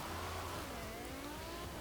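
A 2019 BMW Z4 Roadster in Forza Horizon 4, fitted with an older BMW M5 engine, revs steadily with rising tonal engine whine, loud and close, running continuously without speech.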